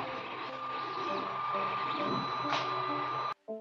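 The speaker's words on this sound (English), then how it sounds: "The nozzle moves along the x-axis to print the model" A 3D printer nozzle travels while printing a model, giving a steady motor whir with tonal stepper whine that stops abruptly near the end, loud and close with no talk over it.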